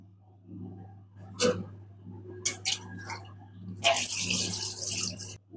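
Hands washed under a running tap, with a few faint taps and knocks before the water gushes loudly and steadily for a couple of seconds, then stops.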